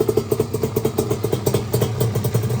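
A Yamaha Banshee ATV engine idles close by with a rapid, uneven putter and light mechanical clatter, steady throughout with no talking.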